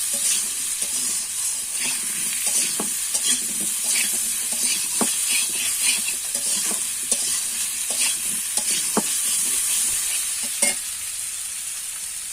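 Pieces of taro fry in hot oil in a wok for a Bengali rohu fish curry, giving a loud, continuous, close-up sizzle with scattered spatula scrapes and clicks throughout, and no voices.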